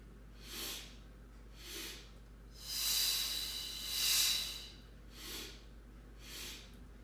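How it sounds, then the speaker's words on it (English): Paced breathing exercise during a mat workout: soft, airy breaths in a steady rhythm, with short breaths flanking a couple of longer, stronger ones, close and alone without talk. "Take that to 2 inhales and 2 exhales."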